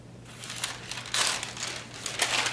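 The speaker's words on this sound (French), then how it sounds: "Et je m'étais emmené, ici, un papier bulle." Bubble wrap crinkles and crackles in bursts as it is handled up close during gel plate printing, with irregular rustling over a low steady hum.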